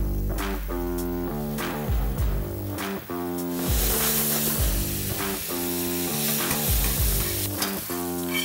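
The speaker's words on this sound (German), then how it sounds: "Als erstes machen wir jetzt einfach mal den Speck in die Pfanne." Bacon sizzles in a frying pan as it renders until crisp for burgers, a steady, close hiss and crackle that runs throughout beneath loud background music.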